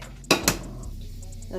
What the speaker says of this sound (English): I'm gonna mix all this together.